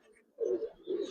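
Giribaz and coloring pigeons coo at a pigeon farm, two soft, low, rolling coos close by and fairly quiet, the second following shortly after the first.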